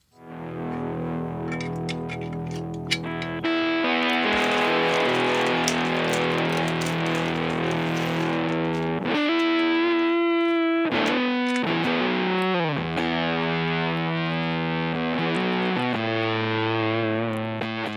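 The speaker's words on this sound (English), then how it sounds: "let's try out the pedal and see if it even sounds good without the mod" A heavily distorted electric guitar plays through a NOTADUMBLE pedal, unmodified, with loud sustained chords and riffs and a brief quieter break midway before the crunchy tone returns.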